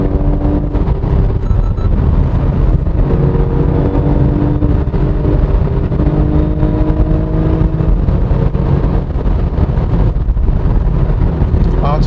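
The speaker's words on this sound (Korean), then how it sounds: "RPM을 높이니까요 실내 그 가상 사운드가 네 적당한 그 음량으로 좀 운전자를 부추깁니다" Inside a moving 2021 BMW M235i xDrive Gran Coupe on a winding road, a steady droning virtual engine tone rises with the revs, mixed with road rumble and wind noise.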